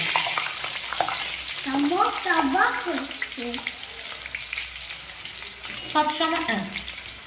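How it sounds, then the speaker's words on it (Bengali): Nimki frying slowly in hot oil on low heat, a steady soft sizzle and bubbling with occasional stirring scrapes, close by, while a voice talks intermittently over it. "এটাকে একটু কম তাপে ছাড়তে হবে আর খুব ধীরে ধীরে এটাকে ভাজতে দিতে হবে"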